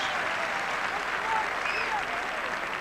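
A stadium crowd applauds a Barcelona player, Oleguer, as he is substituted during a Porto versus Barcelona football match, a dense and steady wash of clapping that fills the whole stretch at even loudness, with faint whistles rising above it.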